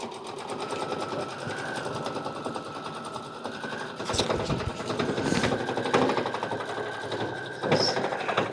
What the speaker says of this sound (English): it's going to stitch the placement line for both flowers